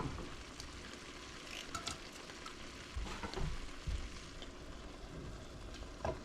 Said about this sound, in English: all I'm doing is warming it in the pan